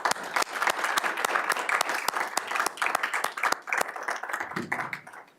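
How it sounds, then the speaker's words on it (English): An audience at a school board of education meeting gives a round of applause, steady moderate clapping from many hands that thins out and fades near the end. "How about a round of applause?"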